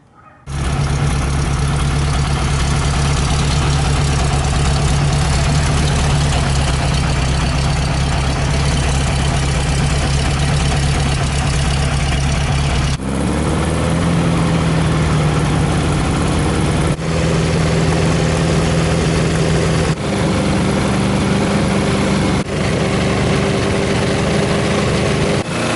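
A car engine idles at 20 degrees of timing after a distributor modification, running a steady low rumble up close and loud, with a slight shift in pitch partway through and no talking.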